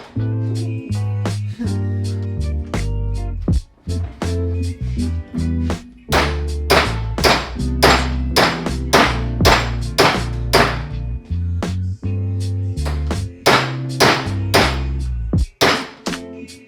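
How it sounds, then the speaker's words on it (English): Heavy hammer blows beat a bent muffler pipe clamped in a vise, the hits landing loud and close in irregular clusters with brief ringing pauses between. "It's in the vise. I gotta beat it up a little bit more,"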